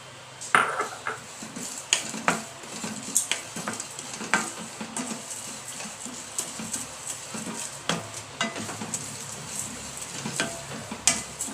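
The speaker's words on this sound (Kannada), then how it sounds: "ಒಂದು ಅರ್ಧ ಸ್ಪೂನ್ ಅಷ್ಟು ಜೀರಿಗೆನ ಹಾಕೋತಾ ಇದ್ದೀನಿ" Cumin seeds, about half a spoonful, sizzle in a hot pan during the first steps of idli sambar. Frying crackle runs throughout with frequent sharp stirring clicks and scrapes, close and fairly quiet, with no talk.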